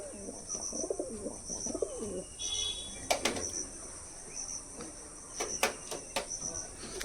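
Kalduma pigeons in a loft coo softly in low, rolling phrases early on, followed by brief flutters and scattered sharp chirps over a constant background of insect and cricket trilling.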